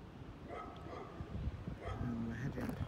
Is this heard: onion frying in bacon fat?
no